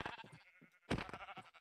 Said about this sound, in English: Oh my god, there's so many sheep.